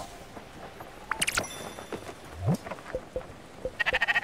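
Sheep bleating in the video game Spiritfarer, a few soft, short bleats and clicks against a quiet background, with brief faint game sounds and no talk.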